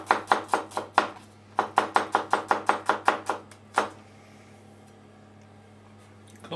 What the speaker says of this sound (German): Zwiebeln schneiden wir auch schon mal. Auch dünn.